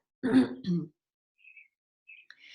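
A single throat clearing, close and fairly loud, followed by a few faint high chirps in the background.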